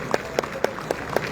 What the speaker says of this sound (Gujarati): ખૂબ ખૂબ તાળીઓથી